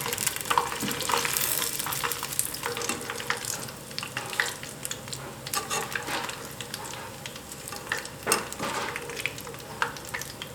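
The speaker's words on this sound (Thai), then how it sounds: "คนเข้าไปเรื่อยๆ นะ จะได้สุกอย่างทั่วถึง" Chilies frying in oil for a Thai stir-fried minced pork basil dish, a dense steady sizzle with scattered scraping and stirring knocks, fairly close and without talk.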